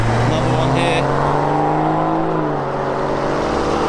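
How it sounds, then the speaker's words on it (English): Modified cars rolling in to a car takeover meet, a steady engine drone with slowly gliding pitch as a vehicle passes nearby, under a talking voice. "first cars rolling in for the takeover there"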